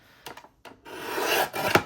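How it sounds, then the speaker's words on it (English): Paper for a junk journal envelope is trimmed close up, with a few short scraping strokes followed by a longer rasping cut and a final sharp snip, no talking. "I'm also going to just start off by trimming this one down to"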